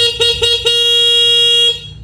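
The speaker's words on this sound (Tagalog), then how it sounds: "Stock horn." A Raider 150 motorcycle's stock horn beeps with the engine off, a few quick short toots followed by one long steady blast, loud and close.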